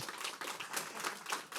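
Sustained audience applause at an awards ceremony, a steady wash of many hands clapping in a large room.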